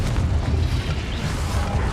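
Fiery Confringo blasting spell bursts in the Hogwarts Legacy video game, a rumbling, booming explosion texture with low thuds throughout.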